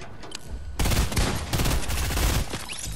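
Rapid bursts of gunfire from a Fortnite match, a loud sustained fusillade of overlapping shots that kicks in after a quieter start and runs for about two seconds before easing off.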